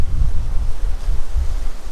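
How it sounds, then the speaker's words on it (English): Ocean waves crash on the shore of Madeira as a loud, rumbling surge, heavily mixed with gusting wind buffeting the microphone, with no voices. "so I can have some action when the waves crash on the water and gives me some motion"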